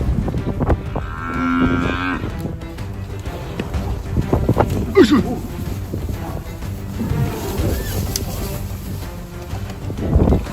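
Buffalo herd nearby giving a long low moo early on, amid rustling movement, gusting wind and scattered thuds.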